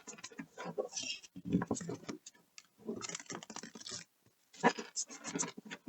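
Quick papery riffling and soft card slaps of tarot cards being shuffled in irregular bursts with short pauses, close and fairly quiet.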